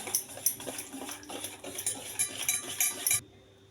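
Grated orange, sugar and oil being stirred together for an orange cake, with a spoon clinking and scraping repeatedly against a metal bowl at close range, no talking, ending abruptly.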